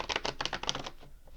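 Tarot cards are shuffled close up, a quick run of crisp riffling clicks and flutters for about a second that then trails off into quiet.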